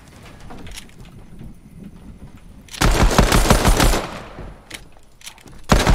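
Rapid bursts of gold pistol gunfire in the Fortnite video game, a dense loud volley of shots after quieter background sound, then another sharp burst at the end, with no talking.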